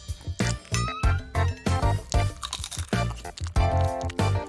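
Loud, close crunching as a crispy Kit Kat chocolate bar is bitten and chewed, sharp crackling bites repeating in quick succession over a music backing, with no talking.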